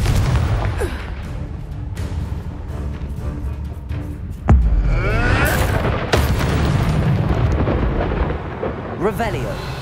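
A fiery Confringo blast spell from the Hogwarts Legacy video game erupts with a deep boom about midway, over a constant rumbling battle din with whooshing magic and crackling effects, and voices shout briefly.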